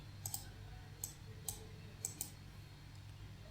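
Computer mouse clicks while searching for a package in Visual Studio, about six faint, sharp clicks, some in quick pairs, over a low background hum.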